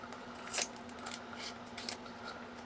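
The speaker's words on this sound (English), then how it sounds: "We're going to cut that down to the middle." Scissors cutting down the middle crease of a folded paper for a mini art journal book: a few faint snips and rustles up close, with a sharper snip near the start over a low steady hum.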